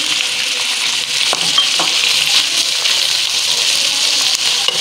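Minced mutton frying in a karahi with browned onions gives a steady, close sizzle with intermittent stirring scrapes and clinks, continuous and fairly loud throughout.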